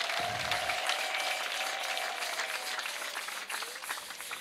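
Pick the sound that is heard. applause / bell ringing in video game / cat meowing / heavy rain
applause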